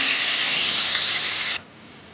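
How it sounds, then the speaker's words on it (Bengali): Cinnamon and bay leaves being stirred in a pan with a steady loud sizzling hiss that stops abruptly after about a second and a half, leaving a quieter background. "দারুচিনি দিয়ে দিলাম, তেজপাতা দিয়ে দিলাম, দিয়ে এটাকে একটু নেড়ে নেব।"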